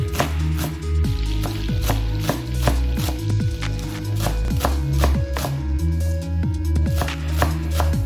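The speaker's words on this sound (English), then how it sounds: "And then just rock a knife." A knife rocked steadily through scallions on a cutting board, a dense, rapid series of close, crisp chopping knocks that runs without pause.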